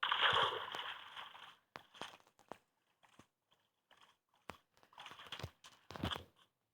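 A splash into water in the Minecraft video game: a short wet burst at the start, then scattered soft sloshes and clicks in quiet surroundings.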